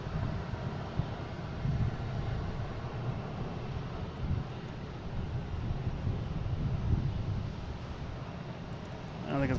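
An Alaska Airlines airliner passes at Boston Logan airport with a steady, broad jet roar at moderate distance, mixed with wind buffeting on the microphone.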